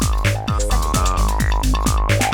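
An acid bass line from a Deconstruct synth plays with its bass overdrive switched off, a loud, steady stream of squelchy, resonant notes pulsing in quick rhythm with no voices.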